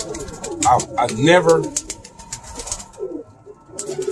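Roller pigeons in a loft give soft cooing calls and rustle nearby while someone speaks over them in short phrases.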